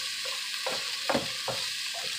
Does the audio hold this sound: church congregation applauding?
no